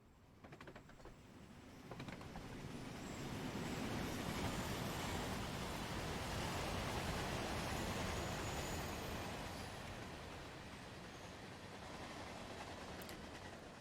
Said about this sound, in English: there went an 8F pulling its freight train